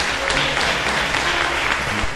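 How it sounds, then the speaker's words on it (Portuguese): A church congregation bursts into applause for King Jesus during a service: a dense, steady wash of many hands clapping at once, loud and sustained throughout. "Aplaude o Rei Jesus."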